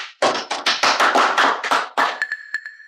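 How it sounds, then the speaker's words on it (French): Applause at a company presentation of new products, a loud, close burst of dense clapping that thins into a few scattered claps before stopping. "Tout le monde applaudissez."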